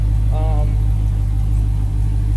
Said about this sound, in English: I just installed the new PCM and started the car.